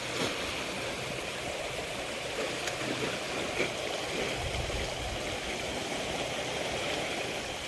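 A village stream flowing, a steady, even wash of running water that fills the whole stretch with no speech.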